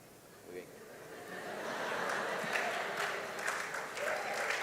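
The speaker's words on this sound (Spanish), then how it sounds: "Aplaude a Dios" A crowd at a church congress breaks into applause that swells from light clapping to full, sustained clapping, with voices and some cheering mixed in.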